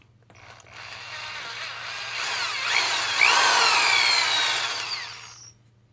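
A small drill bores about a quarter inch into a foam Nerf dart tip, a close, high whirring that rises over a second, holds steady for several seconds with pitch wavering, then cuts off, over a faint low hum.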